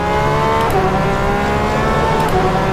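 A Porsche 911 RSR GTE race car engine in the rFactor 2 racing sim at Portimao drones loudly and steadily at high revs. The pitch dips and shifts once, as with a gear change, and no one talks.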